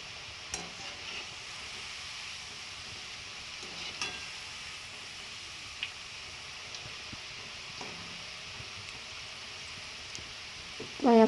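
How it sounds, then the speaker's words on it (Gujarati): Potato french fries frying in hot oil, a steady low sizzle running throughout with a few faint clinks and a louder knock at the very end. "હવે અહીંયા આપણું તેલ પણ ગરમ થઈ ગયું છે. તે હવે થોડી થોડી કરી આપણે ફ્રેન્ચ ફ્રાય છે તે ફ્રાય કરી લઈએ"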